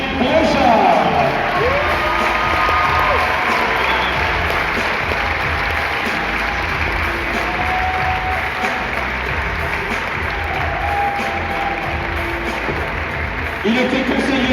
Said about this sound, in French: Je vous demande d'applaudir Charles-Henri Brochard.